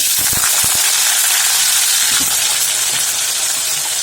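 Steady, dense hiss and crackle of potatoes frying in hot oil fills the whole clip at a constant level, with a few low thumps early on.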